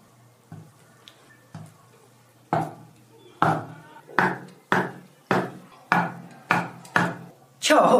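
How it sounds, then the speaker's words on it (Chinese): A knife chops soft tofu into small cubes on a cutting board for mapo tofu, producing a series of distinct, close taps that start sparse and then fall into a fairly regular rhythm. "改刀切成小四方块，"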